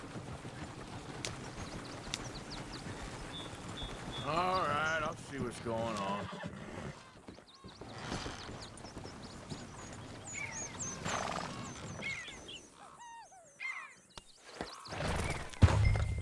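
A horse in the open-world video game Red Dead Redemption 2 whinnies and clip-clops among game sounds, with in-game character dialogue over it and scattered thumps near the end.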